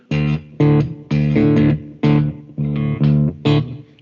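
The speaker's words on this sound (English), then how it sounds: "so that's a delta rhythm" Fingerstyle delta blues guitar: a steady, rhythmic pattern of plucked chord bursts with short gaps between them, played alone and close up.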